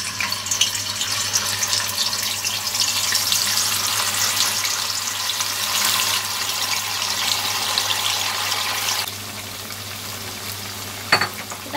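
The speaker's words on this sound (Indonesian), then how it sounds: "kita panaskan minyak ya kemudian kita goreng" Continuous crackling sizzle of tofu frying in hot oil, steady and close, with a brief clink near the end.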